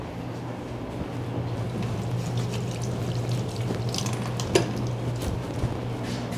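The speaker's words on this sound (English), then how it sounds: "I'm gonna wash my hands really quickly" Water runs from a kitchen tap during handwashing before cooking, a steady splashing trickle with a few faint clinks and knocks, fairly close and without talk.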